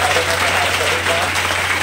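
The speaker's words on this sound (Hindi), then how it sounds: "जोरदार तालियों से स्वागत।" An audience at a birth anniversary event for a Mewar social worker gives loud, steady applause, with a speaker's voice carrying over the clapping and a low hum underneath.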